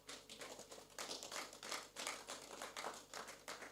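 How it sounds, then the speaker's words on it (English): Faint, scattered clapping from a small audience at a sales talk, individual claps in an uneven rhythm, quiet and somewhat distant. "And you can clap."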